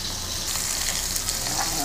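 Fish fries in a pan over medium-high heat in a galley, a steady, close, loud sizzle and crackle with no break.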